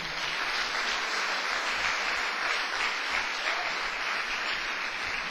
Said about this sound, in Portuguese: Agora pode dar outra salva de palmas para o Senhor.